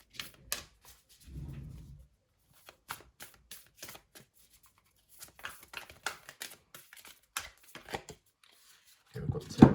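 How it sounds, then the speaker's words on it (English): Oracle cards are shuffled and pulled in quick, crisp riffling bursts with soft slaps and pauses between them, close and fairly quiet. "So I'm going to pull a quick oracle card to clarify the overall"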